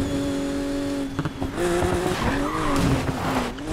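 BMW M4 racing at speed in the video game Need for Speed Payback, its engine droning under repeated tire skids and squeals, loud and close with surging revs and no talking.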